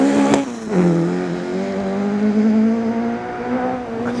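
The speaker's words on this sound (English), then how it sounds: "Can't beat that sound of cars everywhere." Rally cars on a forest stage at Gale Rigg: a loud engine close by drops in pitch, then holds a steady droning note, with a sharp crack near the start.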